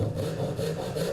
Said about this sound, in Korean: 톱질을 합니다.